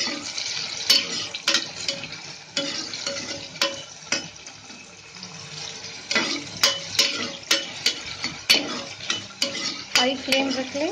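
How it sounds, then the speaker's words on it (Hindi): Chopped onions and green chillies frying on high flame for a chicken korma, with repeated loud spatula scrapes and clanks against the pan over a continuous sizzle, in uneven rhythmic bursts. "हाई फ्लेम रख लें, इसको अच्छे से फ्राई कीजिए।"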